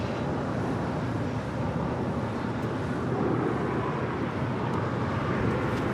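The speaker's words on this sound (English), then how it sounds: "United Airlines Flight 38, also coming in from Tokyo Haneda, the 787-10 Dreamliner," A United Airlines 787-10 Dreamliner arriving at LAX from Tokyo Haneda produces a steady, broad, rumbling jet roar with wind-like noise, continuous and moderately distant throughout.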